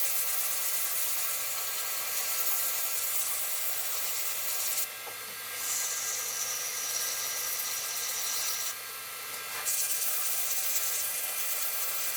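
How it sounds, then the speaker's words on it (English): Sandpaper sands a baseball pen blank, a continuous dense hissing rub that holds steady with brief dips and shifts in texture, close and alone without talk. "I'm going to start with my normal grits and then work my way up and get to the micro mesh"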